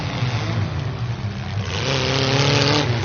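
A battered demolition derby car's engine laboring hard, a rough mid-pitched drone that climbs into strained revving partway through, close and loud with no voices.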